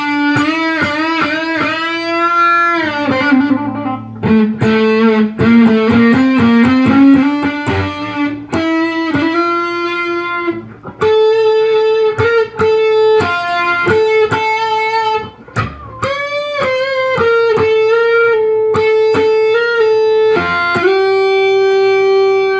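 Electric guitar played through a Pro Co RAT2 distortion pedal set low with the filter around half-open, loud overdriven riffs and sustained notes with strummed chords, no voice.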